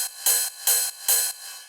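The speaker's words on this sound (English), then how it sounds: "So at every offbeat, the ride sounds like this." Ride cymbal in a modern trance drop, three bright, washy strikes landing on the offbeats with short gaps between them, steady and alone.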